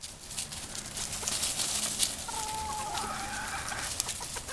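Backyard chickens clucking and squawking as they scramble for tossed food scraps, with a flock close by. Busy overlapping clucks carry on throughout, and a sharper call rises near the end.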